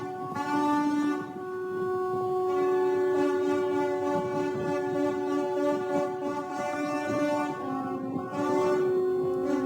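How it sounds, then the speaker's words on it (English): Tugboat and ship horns blaring in celebration as the freed vessel moves along the Suez Canal, a long sustained loud droning chord that swells and dips, with no talking over it. "All right, Seth, we hear all the horns honking, lots of the tugboats there, the dredgers that were trying to move this."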